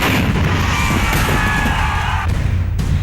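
Fireworks burst in a rapid, loud barrage at a Kerala temple firework contest, sharp booming blasts crowding together over a continuous rumbling roar.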